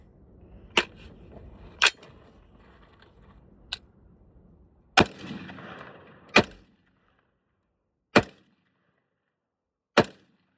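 A KS-3 gun fires its first shots outdoors: seven sharp, loud reports spaced irregularly, with a scrape and rustle of handling between them and a brief echo tail after each.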